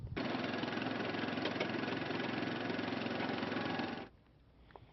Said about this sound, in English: It's powered by radial engines, one of the fastest tanks on the battlefield.